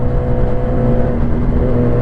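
A steady, loud engine drone with strong low rumble from a 2017 Yamaha R6 sport motorcycle, holding a constant pitch throughout with no voices, running close by.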